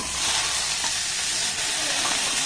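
Mixed vegetables with three kinds of capsicum stir-frying in a pan, a dense, even sizzle and hiss running close and continuous with light stirring movement.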